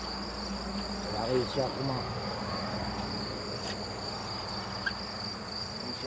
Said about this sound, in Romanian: Numai greierii se aud aici.